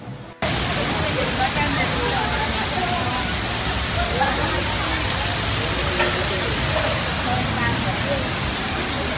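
Heavy thunderstorm rain pours down steadily in Santa Marta, Colombia, in a dense, loud hiss that fills the whole stretch, with faint voices buried beneath the downpour.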